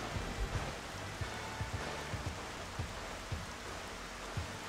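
Steady rain in the video game Xenoblade Chronicles, a continuous hiss of falling drops with occasional soft low thumps scattered throughout.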